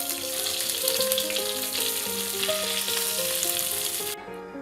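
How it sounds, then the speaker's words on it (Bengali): Eggplant slices frying in hot oil in a pan, giving a close, steady sizzle with crackling throughout that drops away abruptly near the end. "বেগুনগুলো হালকা করে ভেজে নিয়েছি"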